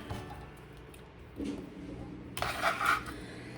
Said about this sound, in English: So I'm gonna put this red onion in there